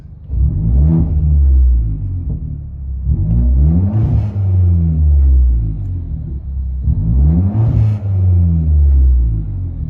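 A 2010 Hyundai Genesis Coupe 2.0 turbo with straight-piped dual exhaust pulls away in repeated loud, close revving surges, each rising and falling with gear changes over a constant low rumble.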